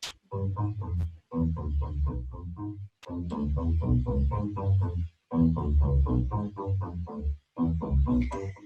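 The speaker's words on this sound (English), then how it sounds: "So chorus has to be on my bass line, and I use Sound Toys plugins." A pulsing electronic bass line with warm, wobbly chorus and gritty distortion plays repeated phrases in steady bursts, with short gaps between them.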